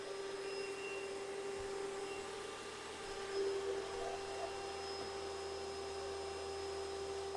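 A vacuum cleaner runs steadily on the carpet of an RV, a continuous droning hum with a high whine that holds at an even level from start to finish with no talk.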